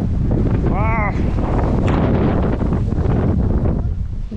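Strong wind buffets and roars across the microphone on the coast at Narlı village, Erdek, with a short exclaiming voice near the start.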